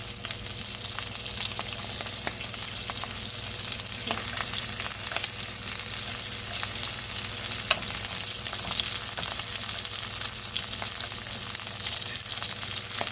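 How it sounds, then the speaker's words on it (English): Shrimp frying in a pan with browned garlic for pad thai, a steady dense sizzle that holds at an even level throughout, close and loud with no talk. "I'm gonna go ahead throw the shrimp in there. Just cook like 2 minutes."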